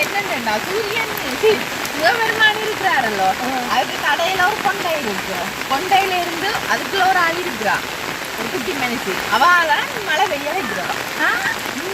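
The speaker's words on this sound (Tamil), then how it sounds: "மழை மழை பெய்ய" Steady rain pattering on a surface throughout in Jaffna, with a voice talking or singing in Tamil over the continuous downpour.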